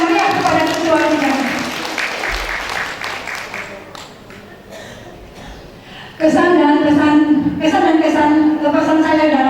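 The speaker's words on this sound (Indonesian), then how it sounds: "Kita beri tepuk tangan yang meriah kepada ketua kita." A meeting audience gives a chairwoman a round of applause at a women's organisation working session in West Kalimantan; steady clapping fills the room under and after a woman's loud amplified speech.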